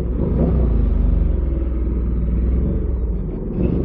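Motorcycle engine revving up close at night on the Las Vegas Strip, a loud, deep rumbling drone that holds steady with a slight pulsing throb.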